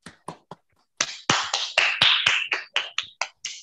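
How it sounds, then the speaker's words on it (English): Online participants applaud after a student's presentation in a virtual science meeting, a sparse run of about a dozen sharp, separate claps from one or a few people, heard close and alone without talk. "So let's give a huge round of applause for Mahalakshmi again."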